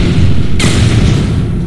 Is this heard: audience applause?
no